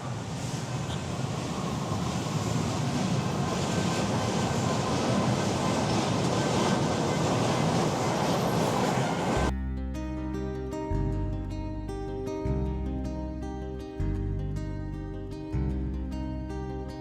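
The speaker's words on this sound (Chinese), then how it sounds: "这里就是他们的轻轨站" A light rail train at a station in Manila gives a loud, steady, close rumbling roar for about nine seconds before music abruptly takes over.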